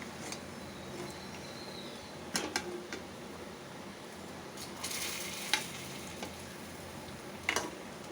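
Balls of batter fry in hot oil, a constant hissing sizzle with a few sharp crackles and utensil clinks, close and fairly quiet with no talking.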